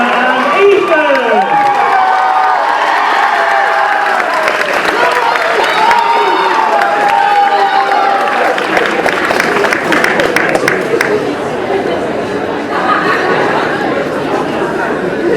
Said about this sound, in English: Give them a massive round of applause, Anna and Ethan!